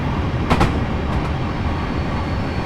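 A train runs on the Waterloo to Portsmouth Harbour line in Train Simulator 2018, a continuous rumbling rail roar with a few faint clacks, close and steady with no talking.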